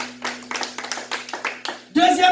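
Congregation in a church service clapping in a steady rhythmic beat, about a dozen claps over a couple of seconds, ending as music or singing swells in.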